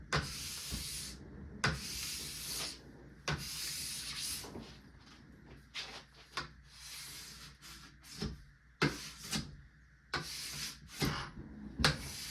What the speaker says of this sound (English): Essentially, I just keep scraping, make a little pile here.